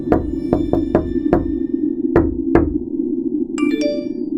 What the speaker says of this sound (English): I heard the familiar knock on my window